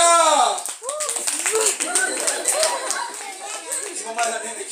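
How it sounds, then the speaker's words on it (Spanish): A crowd at a child's sixth birthday party claps, with scattered handclaps mixed into loud cheering, shouting children and chatter. "¡Grito de aplauso para acá!"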